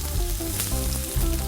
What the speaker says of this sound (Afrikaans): Want hulle moet nou die langste braai.